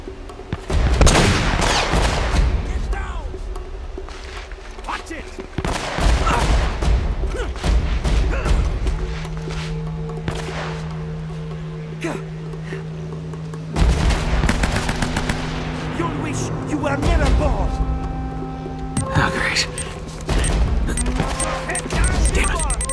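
Gunfire in Uncharted: Drake's Fortune: repeated bursts of rapid shots and crashing impacts, loud and close, with pauses between volleys and occasional talk over the action.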